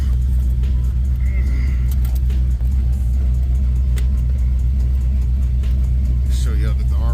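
A Chevy box car's engine idles with a deep, steady rumble close by, with slight revving and a few faint clicks over it.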